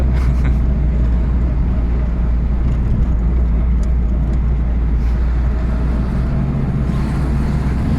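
Classic Citroën Traction driving, a steady low engine drone with road rumble filling the whole stretch, close and fairly loud, with no speech over it.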